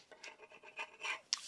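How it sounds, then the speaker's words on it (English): Quiet, uneven scraping and rasping strokes of a chisel dragged across a wooden cutting board, several short passes followed by a sharper scrape at the end. "chisel just to see if we can scrape up any of the bigger pieces"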